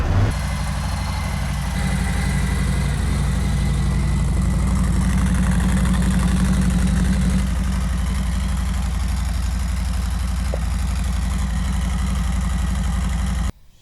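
A motorcycle with a 21-inch front wheel idles steadily and loudly up close after firing up, a low rumbling drone running unbroken for about fourteen seconds before cutting off.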